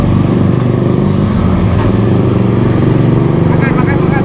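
A Yamaha RX King motorcycle engine, a 147 cc build, runs with a steady, loud two-stroke drone throughout, with people talking over it.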